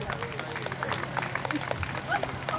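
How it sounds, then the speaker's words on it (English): An audience claps and cheers for a senator at an outdoor community BBQ held for summer camp registration in 2021. The applause is a steady, dense patter of hands that lasts throughout, mixed with crowd hubbub and some talking. "keep the applause going for Senator Roxanne Prasad"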